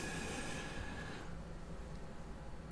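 Supply trains in the factory-building game Automation Empire roll past with a steady low rumble and faint wheel squeal fading after the first second, fairly quiet with no talk.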